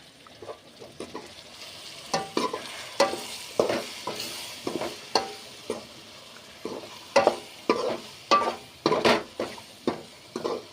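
Chili and coriander powder frying in oil for a village brinjal kara kuzhambu, stirred with a ladle: a rhythmic run of close scraping strokes against the pot over a soft sizzle, growing steadier and louder toward the end, with no voices.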